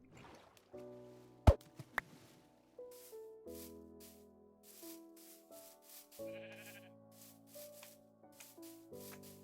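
Sheep bleating in a Minecraft game, several short bleats scattered among quiet background music, moderately loud and alone with no talk.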